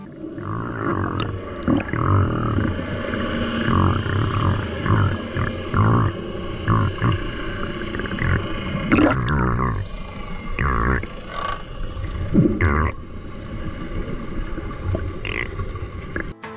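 Dolphins communicate underwater at Sataya Reef in the Red Sea, with scattered whistles and clicks over a dense, constant rumble of water and boat noise that persists throughout.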